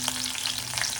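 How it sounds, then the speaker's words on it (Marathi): Mixed village greens frying with garlic in a hot pan, a steady dense sizzle and crackle throughout with faint stirring, close and continuous with no voices. "एक मिनिटभर चांगलं ह्याला परतून घ्यायचं."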